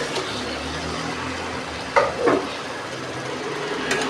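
Turmeric-coated chicken goes into spices frying in oil for a potato chicken curry, giving a loud, constant sizzle with a couple of sharper stirring scrapes midway.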